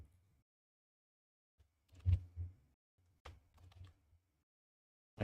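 Sparse computer keyboard typing in short clusters of clicks and clacks, separated by quiet pauses, close and fairly soft, with no talking.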